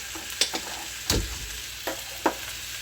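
Chicken sautés in white oil in a kadai wok for coriander chicken: a constant sizzle broken by several distinct metal scrapes and clinks from stirring, one louder thump near the middle, with no talking.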